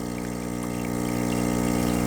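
An espresso machine pump drones steadily as it pushes water through a bottomless portafilter, a constant close mechanical hum with a buzzing tonal whine and faint watery gush, unchanging and alone without any voices.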